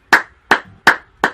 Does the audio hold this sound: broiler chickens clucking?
no